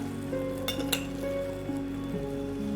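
Fennel seeds sizzling in about three tablespoons of hot oil in a pan: a steady, soft frying hiss runs throughout, broken by a couple of sharp metallic clinks near the middle.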